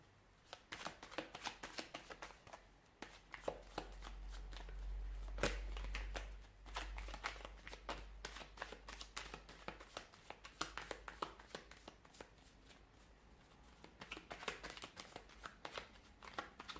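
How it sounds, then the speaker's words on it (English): Tarot cards being shuffled by hand, a soft continuous riffle of papery flicks and taps, close and quiet, with a low rumble in the middle. "Give the cards a shuffle."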